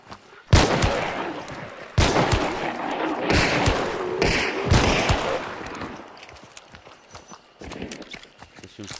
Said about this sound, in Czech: Slyším střelbu dan.